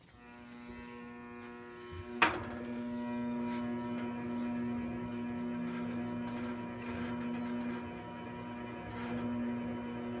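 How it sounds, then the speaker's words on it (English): A honey extractor motor powers up with a click and then keeps up a steady electric hum and whine at moderate level, with no talking. "we'll power up the extractor and see what happens"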